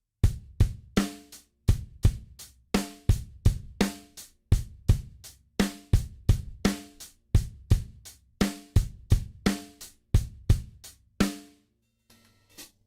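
Solo drum kit playing a groove with the backbeat shifted to the and of 4 and the inner beats removed, crisp kick, snare and cymbal hits in a steady repeating pattern, close and clear, ending with a short pause and a faint final hit.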